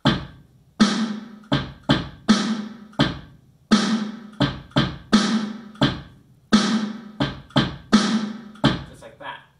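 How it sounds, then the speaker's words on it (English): A steady drum kit groove of deep bass drum thumps and crisp snare hits, with no hi-hat, each with a short decay, repeating in a simple pattern. "If we add it in with our snare drum and take out the hi-hat, it sounds like this."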